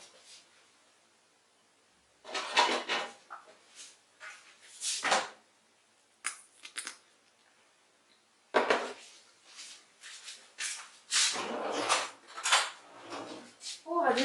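Potato croquette mixture with spices and harissa being stirred and mashed in a bowl, in irregular scraping and clinking bursts separated by quiet pauses, close to the mic.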